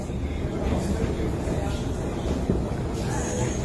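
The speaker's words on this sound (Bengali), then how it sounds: "মেট্রো দেখো," A Kolkata metro train running through the tunnel beneath the Ganga river fills the space with a steady low rumble, heard from inside or on the platform, with faint voices nearby.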